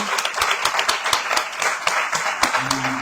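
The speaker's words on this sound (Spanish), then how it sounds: "Pido un aplauso para los 4 exponentes de esta tarde." Applause for four speakers at a press conference on human trafficking, made of distinct hand claps from a modest group, uneven and close, with a faint voice briefly at the end.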